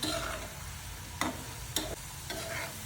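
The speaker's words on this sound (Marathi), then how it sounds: "बटाटा हा फ्राय होते तुपामध्ये, लालसर होईपर्यंत" Diced potato fries in ghee for sabudana khichdi, a steady soft sizzle running throughout with a few sharp clicks of a spoon stirring against the pan.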